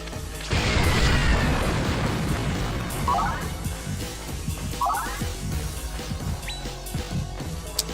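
An explosion in the video game Baroque lands as a heavy boom with a crashing burst, then a rumbling tail broken by smaller pops and short synthetic chirps.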